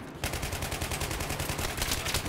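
Sustained suppressive gunfire in the video game Battlefield 3, starting abruptly and continuing as a dense, rapid rattle of closely spaced shots, loud and near throughout.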